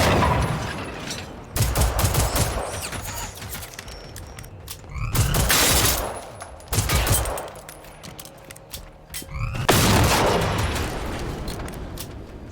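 Friendly gunfire in the shooter game Generation Zero, with loud, dense bursts of automatic fire and booms coming in waves, separated by short lulls.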